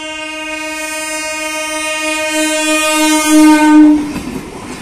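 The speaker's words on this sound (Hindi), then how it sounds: "देखो ये हॉर्न है ट्रेन की" A train horn blares long and loud, a steady harmonic blast that swells, then cuts off as the rumble and clatter of the passing train takes over near the tracks.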